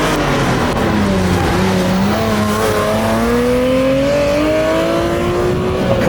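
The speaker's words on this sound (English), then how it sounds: "Proper performance sound that's part 964, part 962, the Mourne car, and part 959 supercar." A Porsche 996 911 GT3 Clubsport race engine revs up hard, its rising wail climbing through the gears, loud and close with no talk.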